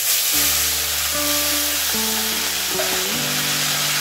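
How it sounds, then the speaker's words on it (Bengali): Boiled chowmein noodles sizzle as they are stir-fried in a wok with hot oil and green chili, a continuous loud hiss close by with faint tonal sounds running underneath. "এখন আমি দিয়ে দেবো সেদ্ধ করে রাখা চাউমিন।"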